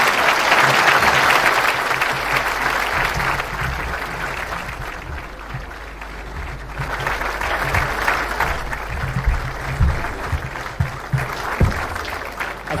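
Audience at a formal Kenyan state event claps steadily to welcome President William Ruto, a dense sustained applause that swells, dips slightly mid-way, then rises again, with a low hum underneath.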